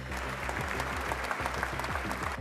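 A crowd applauds inside Notre-Dame cathedral in Paris to greet Zelensky, sustained, dense clapping spreading through the large stone space, steady and fairly loud under a low hum, with no voices.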